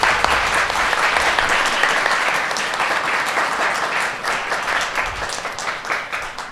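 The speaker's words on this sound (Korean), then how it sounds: "이용준 선생님께 큰 박수 부탁드리겠습니다." Audience applause in a lecture hall for a lecturer at a Carl Sagan salon science talk, dense sustained clapping from many hands that holds steady throughout and thins slightly near the end.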